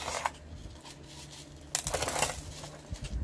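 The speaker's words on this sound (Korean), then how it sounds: "이제 소림 마사를 솔솔솔도 뿌려주고요" Small-grain masa grit is sprinkled into a succulent pot, a soft dry rattling patter of pellets falling onto soil, with a louder scattered burst partway through, close and quiet.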